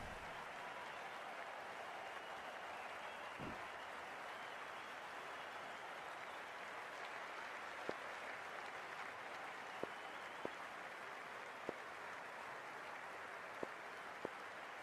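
Steady, dense applause from a large stadium crowd in the Cricket 26 video game fills the scene at an even level throughout, with a few faint sharp clicks over it and no voices.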